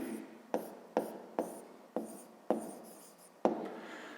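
Pen or chalk strokes writing out a math solution, about seven sharp scratchy onsets each trailing into a short rasp, close and steady, with no voices.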